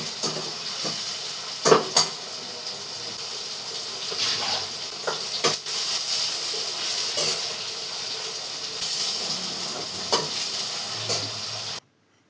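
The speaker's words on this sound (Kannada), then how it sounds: "ಚೆನ್ನಾಗಿ ಫ್ರೈ ಆಗಬೇಕು" Onion and tomato frying in oil for chicken sukka, a continuous close sizzle with intermittent spatula scrapes and taps throughout, no talking, ending abruptly.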